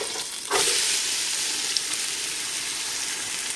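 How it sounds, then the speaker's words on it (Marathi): Onions hit hot oil in a pot with a sudden loud sizzle that settles into a steady, bright frying hiss, for a Goan beef and pork stew. "आतां आमी आनियन ॲड करूया."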